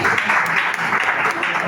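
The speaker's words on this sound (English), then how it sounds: "A sound of applause, please." A crowd at an Imo State primary health care event breaks into loud, dense applause that stays constant throughout, with voices blending into the clapping.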